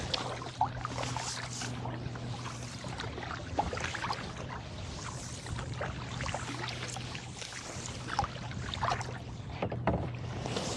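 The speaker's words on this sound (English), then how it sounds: "I guess before we were paddling with the wind, now we're heading into the wind" A kayak paddled into a headwind off Bainbridge Island, with steady water splashing and dipping strokes under constant wind rush across the microphone, close and continuous with no talking.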